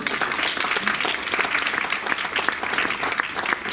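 A crowd at the Miss Blumare 2016 press conference aboard the MSC Magnifica applauds warmly to welcome a guest, a thick, even patter of clapping that carries on without pause.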